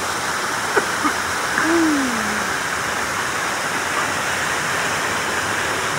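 Bolinao Falls in Pangasinan, Philippines, a constant broadband roar of falling water filling the scene, steady and loud, with a brief faint tonal whistle-like call near the start.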